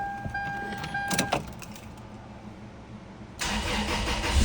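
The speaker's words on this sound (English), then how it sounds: "You can hear the engine running." A 2003 Toyota Tacoma engine cold-starts with a brief crank and catch, then runs at a steady idle, close by and moderately loud, with a surge in engine roar near the end.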